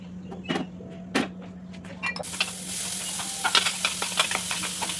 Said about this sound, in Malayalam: സബോളയും പച്ചമുളകും ചെറുതാക്കി അരിഞ്ഞിട്ട് കുറച്ച് വെളിച്ചെണ്ണയിൽ ഞാനതൊന്ന് ജസ്റ്റ് ഒന്ന് വാട്ടിയെടുക്കുന്നുണ്ട്